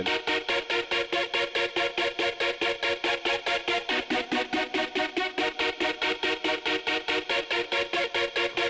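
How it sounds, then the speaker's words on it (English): A sine lead synth plays a chord progression made in FL Studio, a steady pulsing loop of evenly spaced bright notes that runs without a break. "That's the sine lead progression that I did."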